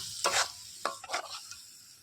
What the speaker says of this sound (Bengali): মশলাটাকে কষিয়ে নেব, দিয়ে দেবো সামান্য একটু জল, একটু মশলাটা ভালো করে কষানো হবে।